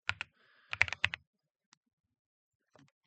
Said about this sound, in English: My keyboard is shit. It's actually a pretty good keyboard, but it's like not registering.